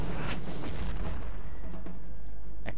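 Cannon artillery fire in the Napoleon: Total War battle game, a few deep booms and rumbling blasts over a dense, continuous battlefield din with a sharp crack near the end.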